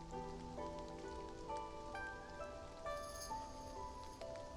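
Rain falling in the video game Love and Deepspace, a soft continuous patter under faint sustained musical tones, quiet and even throughout.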